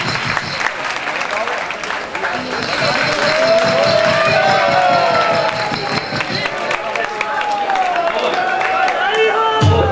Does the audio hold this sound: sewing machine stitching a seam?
no